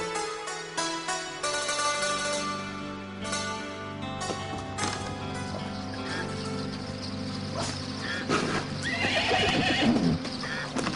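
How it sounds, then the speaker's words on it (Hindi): A horse whinnies loudly and its hooves clip-clop nearby, with neighing calls rising over a musical backdrop in a Hindi period drama scene, continuous and prominent throughout. "वो अपने बलदेव कक्का है ना, उनसे घोड़ा मांग के लाया है।"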